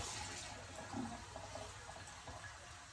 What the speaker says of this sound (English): Now, I'm gonna add my 4 cups of warm tap water.